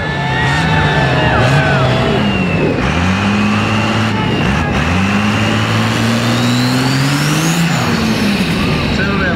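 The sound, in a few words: red Cummins-powered Mustang engine revving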